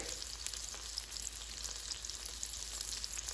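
Almond flour breaded chicken sizzles steadily in a frying pan, a continuous close hiss of hot oil with faint crackles and no voices.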